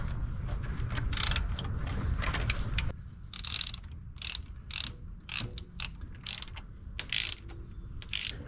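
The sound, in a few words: torque wrench tightening Vortec intake manifold bolts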